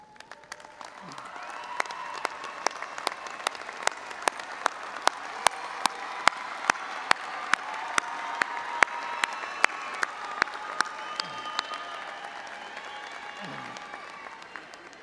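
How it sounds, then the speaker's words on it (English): Audience applause at a University of North Texas spring commencement ceremony, a sustained crowd clapping that swells and then fades, with some sharp individual claps near the microphone and faint voices mixed in. "join me in applauding all those who helped you to earn this degree"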